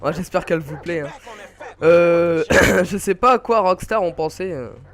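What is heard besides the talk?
No everyday noise stands out behind the speech.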